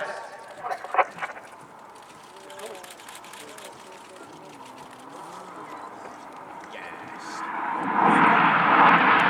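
RAF Red Arrows jets perform the Tempest manoeuvre at the RIAT 2025 air display. A distant hum and a voice come first, then a loud, rushing jet roar swells in the final seconds.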